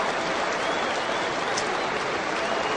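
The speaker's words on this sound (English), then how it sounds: "Wonderfully warm reception from the Oval crowd." A cricket crowd at the Oval applauds a century during an England versus Australia Ashes Test, a dense, steady wash of clapping throughout.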